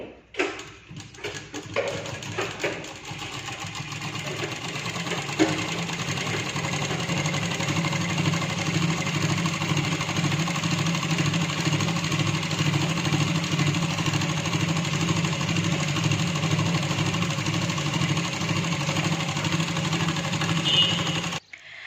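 A sewing machine stitches the edge of a Punjabi dress, starting after a few seconds of irregular handling knocks, then running in one long continuous mechanical whir until it stops abruptly at the end.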